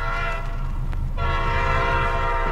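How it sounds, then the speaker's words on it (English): A passing train with a sustained horn blast sounding steadily over low rumbling wheel noise, loud and close, growing fuller partway through, no voices. "There's the train."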